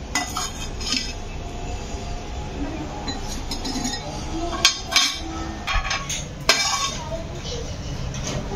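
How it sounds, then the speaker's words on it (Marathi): Cashews and almonds being moved into a bowl, giving scattered close clinks and rattles of nuts and utensil against the bowl, with someone talking throughout. "हे जे काही काजू बदाम आहे हे मी सेम बाउलमध्ये काढून घेतेय"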